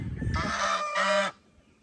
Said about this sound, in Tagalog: So ayan yung alaga nating gansa